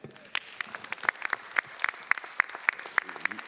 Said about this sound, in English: Can we give our moderator a hand?